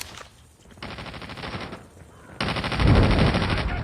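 Call of Duty gunfire comes in two loud, rapid automatic bursts with a short pause between them, the second burst heavier and sustained, with no talking.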